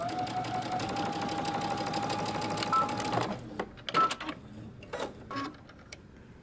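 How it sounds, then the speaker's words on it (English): A sewing machine stitches a seam on a mini hoodie, a loud steady rapid whir that stops abruptly for backstitching, followed by several short clunks and thread-cutting clicks close by. "I'm approaching my dot, so I'm gonna backstitch, cut my thread, move down to the next dot."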